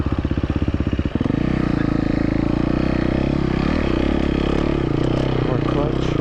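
A new KTM 250 XC-F dirt bike ridden on rocky desert trails. Its engine pulses roughly at first, then climbs into a loud, steady, close-up drone that holds throughout.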